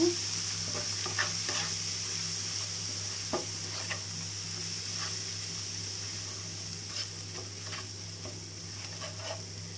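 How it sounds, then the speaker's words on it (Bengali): Spice masala of chili, coriander and cumin powder with salt being sautéed in a pan, a faint steady sizzle with soft scattered scrapes of stirring, quiet and without speech. "মরিচের গুঁড়ো, ধনিয়ার গুঁড়ো, জিরার গুঁড়ো, পরিমাণ মতো লবণ দিয়ে মশলাটা ভালোভাবে কষিয়ে নিব।"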